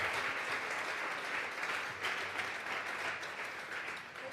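Congregation applauding during a Sunday church service, a sustained dense wash of clapping hands at steady loudness throughout with no talk over it.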